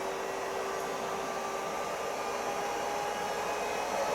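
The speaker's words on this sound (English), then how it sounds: "Fans whirring away." Cooling fans of a Carlsbro Powerline 800 amplifier under test whir in a steady, loud broadband rush with a faint constant hum, unbroken and with no voices.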